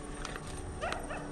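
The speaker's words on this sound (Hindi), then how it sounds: "यहाँ पे ना सारे कुत्ते आधे रो रहे हैं आधे भौंक रहे हैं" Dogs outside at night near a forest edge, barking and howling in the distance, a few short yelps and a wavering howl over a constant background noise.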